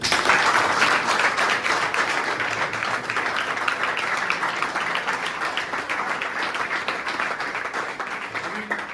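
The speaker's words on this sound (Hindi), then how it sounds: "तो अंकल जी के लिए जोरदार तालियां" A crowd applauds a 60-year-old retired BSF runner who has won many medals, including a 1500 m run in 5:03. The clapping is loud and dense, many hands together, easing off slightly toward the end with no talking over it.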